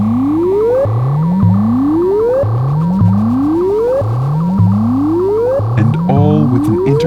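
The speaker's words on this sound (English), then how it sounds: "The sound of sine waves and pinging filters, creating alien landscapes that sound untouched by human hands" Synthesizer sine waves with pinging filters: rising tonal sweeps repeat roughly every 0.7 seconds over a steady drone, loud and alone, with bell-like pings near the end.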